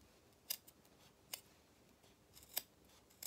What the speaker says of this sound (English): Just use the nose of your scissors to get through.